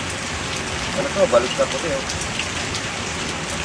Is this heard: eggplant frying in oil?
no